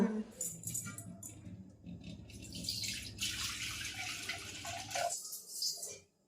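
Water pours and splashes steadily into milk in a container for about five seconds, close and fairly quiet, then stops.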